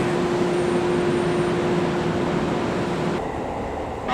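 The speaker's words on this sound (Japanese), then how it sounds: "3番線の電車は回送電車です。" Out-of-service Tokyo Metro Tozai Line train at a station platform, a steady loud rumble with a sustained electric tone that drops away near the end, no talk over it.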